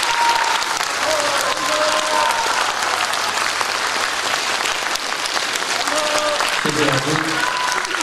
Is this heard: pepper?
no